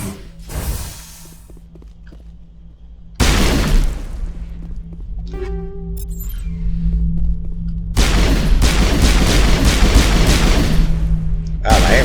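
Gunfire in the Mass Effect video game aimed at gross alien bug eggs, coming as loud booming bursts that drop off and then return in long heavy stretches over a steady low hum.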